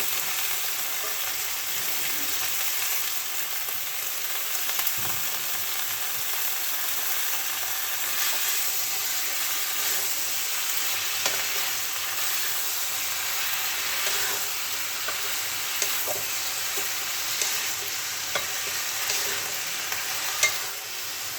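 Malabar spinach stems fry in a pan with a steady, soft sizzle and hiss, broken by scattered scraping clicks of stirring over about twenty seconds, with no talk.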